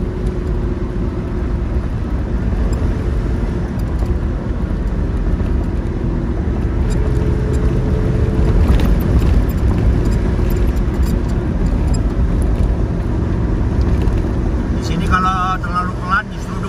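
Steady road roar from inside a vehicle cruising on a multi-lane highway in Alaska with a truck following close behind, a continuous loud engine and tyre drone holding level throughout, with people talking over it.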